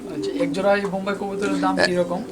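A pair of Bombai fancy pigeons cooing nearby in soft, repeated throaty pulses, mixed with voices talking close by.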